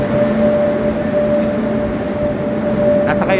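Metro train in an underground Barcelona station, a loud steady rumble with a sustained tonal whine, close and continuous, with faint higher squeals near the end.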